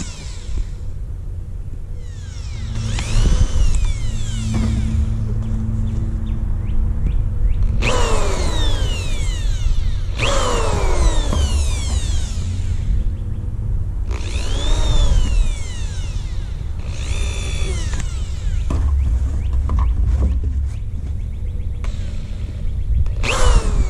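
A power drill bores holes through plastic bottle lids to make bee feeder bottles, with repeated whining bursts that rise and fall in pitch over a steady close rumble, several separate passes one after another.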